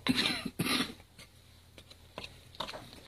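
Someone coughs twice in quick succession, fairly close, then gives a few faint throat-clearing sounds and small noises in a quiet kitchen.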